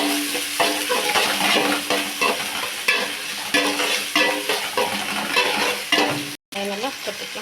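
Onions fry in a pan with ginger garlic paste, cinnamon, cloves, fennel and poppy seeds, sizzling steadily while a spoon scrapes and stirs in a regular rhythm, close and loud, with no talk.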